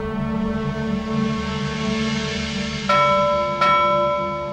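A bell rings in a Pakistani TV drama scene: two sharp metallic strikes, less than a second apart, rise over a sustained ringing hum, with no voices.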